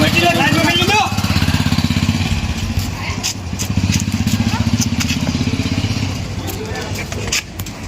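A motorcycle engine runs close by, its loud throbbing idle steady with small revs, while people talk over it.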